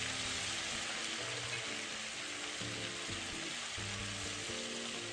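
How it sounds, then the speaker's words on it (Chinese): Spice residue, left over after its oil has been taken out, deep-fries in a wok of hot oil with a dense, steady crackling sizzle and low bubbling throughout, quite close and continuous. "相同的油锅，将香料渣直接放入油炸"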